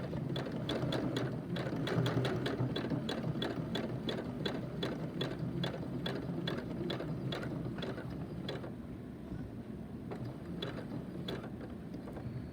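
Sewing machine stitching fabric runs with a fast, regular mechanical clatter of needle strokes, close and steady, pausing briefly then resuming at a slightly softer level.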